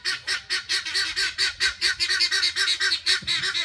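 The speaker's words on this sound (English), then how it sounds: "I believe those are the guineas." Guinea fowl on a farm in southern Indiana keep up a rapid, rhythmic run of harsh honking calls, about four or five per second, close by and loud without pause.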